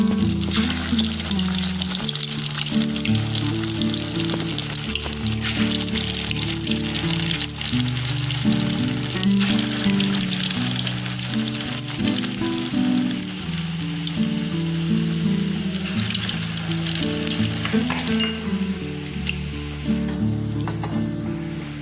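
Egg and pav bread pakoras go into hot white oil and fry with a loud, continuous bubbling sizzle, heard under steady melodic background music with no speech.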